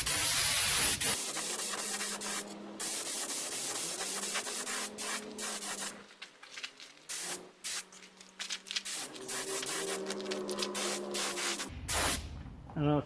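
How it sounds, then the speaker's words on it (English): Spray gun laying catalyzed varnish on a wooden tray, a loud steady hiss in long bursts with brief pauses between passes and a faint voice now and then. "I opened my gun up a little bit because I want to get a nice amount of material on me here"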